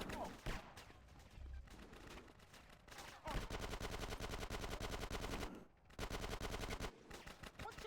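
Rapid automatic gunfire in GTA San Andreas, fairly faint, in dense sustained bursts with brief pauses between strings of shots.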